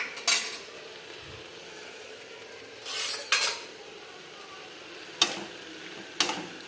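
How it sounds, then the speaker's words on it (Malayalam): A utensil stirs onion, tomato and green chilli with salt in a pan, making a few separate scraping clinks against the metal over a soft, quiet sizzle. "ഇളക്കി കൊടുത്തു"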